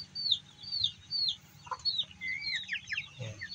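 Chickens and newly hatched chicks on a small farm clucking and peeping, a busy chorus of high chirps over low clucks, close and steady with no talk.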